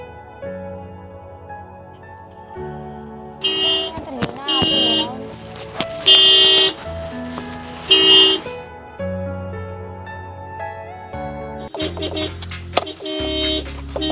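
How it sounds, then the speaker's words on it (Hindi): An old family car's horn honks repeatedly in short and longer bursts on a street, loud and close, mixed with background music and tonal effects. "मैं कितने हॉर्न लगा रही हूँ, फिर भी ये अपनी बाइक नहीं हटा रही।"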